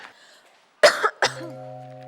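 Two short, close coughs in quick succession, with quiet tonal hum before and after.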